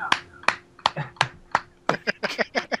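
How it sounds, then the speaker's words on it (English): Slow, evenly spaced handclaps, about eleven in under three seconds, close and fairly loud, quickening slightly toward the end with faint background noise. "Slow applause."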